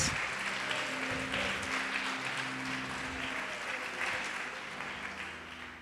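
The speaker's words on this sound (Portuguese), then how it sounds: "Pode aplaudir, glorificar." A church congregation claps in praise during a sermon, a continuous broad wash of applause from many people, fairly even and slowly fading toward the end, with a low background hum beneath.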